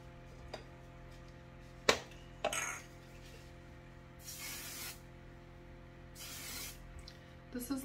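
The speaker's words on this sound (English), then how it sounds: "This is the Aussie Mega Hairspray" Aussie Mega Hairspray is sprayed close by in a few short hissing bursts: a quick sharp puff, then two longer, softer sprays spaced a couple of seconds apart in a quiet room.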